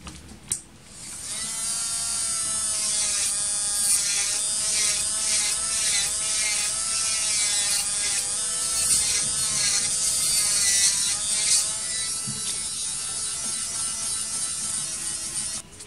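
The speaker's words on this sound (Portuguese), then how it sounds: "eu vou vir com cuidado fazendo a retirada" An electric nail drill files away fiberglass nail extension material during a nail maintenance session, giving a steady, close, high-pitched whine that runs continuously for about fifteen seconds with slight wavering in pitch.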